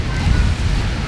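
Ocean waves wash against a beach cliff near a cave in Puerto Viejo, Costa Rica, a short, loud, rumbling surge with wind buffeting the microphone.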